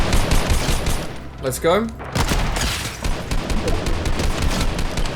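Dense bursts of rapid gunfire from a Fortnite match played on mobile fill the scene, loud and nearly continuous, with a short voice speaking briefly in the middle.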